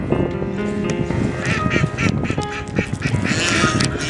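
Ducks quack repeatedly in an outdoor park, a lively cluster of close, overlapping calls in uneven bursts, with some goose-like honks mixed in. A few quacks may be a voice imitating them.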